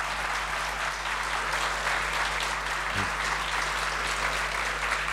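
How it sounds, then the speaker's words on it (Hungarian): Lecture audience applauding after a talk, a continuous even wash of many hands clapping over a low steady hum, holding at constant level throughout. "Nagyon szépen köszönöm a tapsot"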